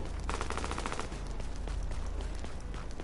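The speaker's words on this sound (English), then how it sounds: "Sounds like a submachine gun." Rapid bursts of submachine gun fire in the video game Tom Clancy's The Division, a dense loud rattle running through the whole stretch with overlapping shots and no talk.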